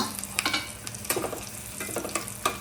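Mustard seeds, curry leaves and two chillies crackle and sizzle in hot oil as a tempering, with sharp pops scattered over a steady close frying hiss and no voices.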